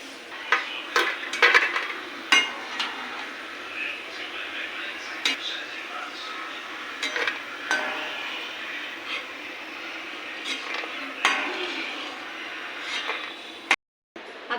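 Fried peanuts scraped and stirred in a pan and scooped out, with light rattling clinks of a spoon against the metal, steady and close, while someone talks.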